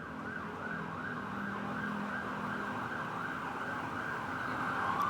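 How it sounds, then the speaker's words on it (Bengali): An emergency vehicle siren wails in a repeating rising-and-falling cycle, loud and close, over a low hum of road traffic, with no voices. "আপনি অনেক সাইরেনের শব্দ পাবেন।"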